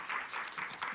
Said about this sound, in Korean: 우리 이렇게 감사 박수 우리 하겠습니다.